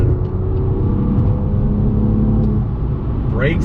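A 2018 BMW M2 engine drones loudly from inside the cabin while driving, a thick low rumble holding steady with a rising revving whine near the end.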